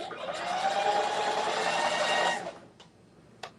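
A sewing machine runs in one continuous fast whirring stitch for about two seconds, close and steady, then stops, followed by a couple of faint clicks.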